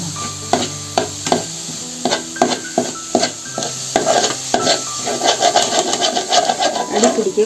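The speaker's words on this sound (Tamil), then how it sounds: "அதே மாதிரி கரண்டி எடுத்து வதக்கிட்டே இருக்கணும்." A ladle stirring and sautéing ingredients in a pan for a home remedy, rhythmic scraping knocks against the metal over a soft sizzle, close and fairly loud.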